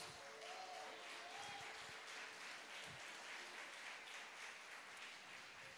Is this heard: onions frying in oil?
no